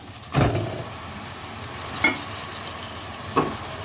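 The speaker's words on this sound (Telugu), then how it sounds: "కొద్దిగా కరివేపాకు వేస్తున్నాను తర్వాత కోసి పెట్టుకున్న టమాటా ముక్కలు వేస్తున్నాను" Curry leaves and chopped tomatoes drop into hot oil, giving a moderate background sizzle with three short louder spatter bursts spaced a second or more apart.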